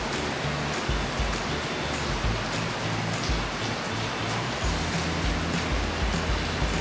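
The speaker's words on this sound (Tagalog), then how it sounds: "Tapos biglang umulan ng malakas." Heavy, sudden downpour roars steadily and loudly as a dense hiss of rain with no break, at a beach resort in Boracay.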